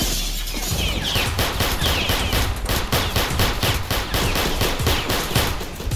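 Automatic gunfire in a Roblox hood roleplay game, a long, loud, rapid string of evenly spaced shots running nearly without pause.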